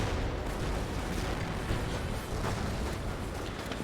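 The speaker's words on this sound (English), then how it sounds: "Mine was detonated there." A mine detonates in the World War II strategy game Company of Heroes, heard as a sustained, dense roar of blast and battle noise that stays loud and steady throughout with no talk over it.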